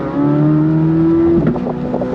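A C8 Corvette Z06 engine note, steady and sustained, breaks into a quick burst of loud, close exhaust pops and crackles near the end.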